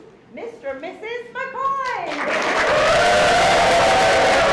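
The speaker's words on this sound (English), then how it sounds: "give a huge round of applause to the new Mr. and Mrs." Wedding guests at a civil ceremony break into applause for the newlyweds, dense clapping swelling and holding loud after a spoken announcement.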